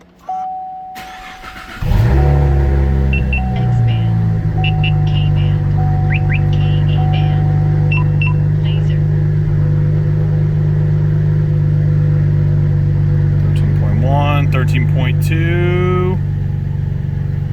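A Cadillac ATS-V with a six-speed manual starts for the first time after an alternator swap: a short crank, then the engine catches and settles into a loud, steady idle, with a brief rev and a voice near the end.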